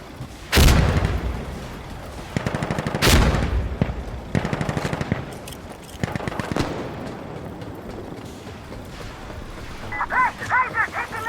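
Gunfire and explosions in the Insurgency Sandstorm shooter game: two heavy blasts, one of them a frag grenade, mixed with rapid automatic bursts and scattered shots. The battle is loud and near, with some shouting under it.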